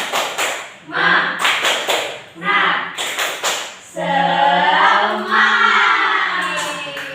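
A class of schoolchildren does a rhythmic spirit clap, with bursts of patterned clapping followed by a loud group chant in unison, all close and lively.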